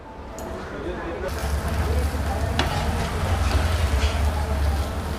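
Vegetables and masala cook in a covered pan on the stove, giving a steady close sizzle and bubbling hiss throughout, with a brief scrape partway through.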